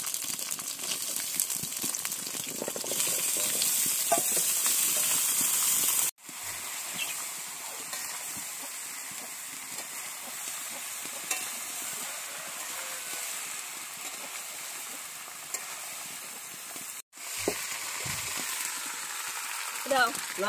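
Jackfruit pieces sizzle steadily in a pan of lightly browned onions being cooked for biryani, a loud continuous frying hiss with occasional stirring scrapes, broken by two brief pauses.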